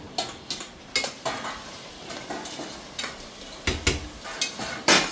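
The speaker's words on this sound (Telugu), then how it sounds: "ఇప్పుడైతే ఈ బోటి ముక్కలు కూడా వేసేసుకుంటున్నాను" Pieces of boti (tripe) go into a tomato curry frying in a pan, with a steady run of sharp stirring scrapes and clacks over a faint sizzle. No one speaks.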